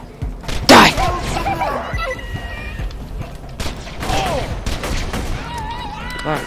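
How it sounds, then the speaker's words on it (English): Video game gunfire from Borderlands 2 with a sharp burst of a grenade blast near the start, then scattered shots and combat effects continuing underneath a player talking. "That's a grenade."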